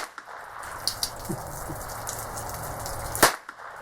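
A single sharp crack from a North American Arms Mini Mag revolver, a tiny Magnum handgun, lands near the end after a quiet stretch of faint ticks and outdoor hiss.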